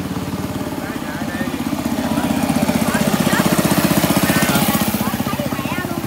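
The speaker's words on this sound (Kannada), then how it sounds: "ಒಂದು ಜನ ಈ ಲಾಂಗ್ ಟೈಲ್ ಬೋಟ್ ಅಂತ ಏನು ಕರೀತಾರೆ ಅದ್ರಲ್ಲಿ ಬರ್ತಾ ಇದ್ದಾರೆ" Long-tail boat engine chugging on the Mekong Delta, a steady loud low-pitched throb that swells slightly mid-clip, with faint voices in the background.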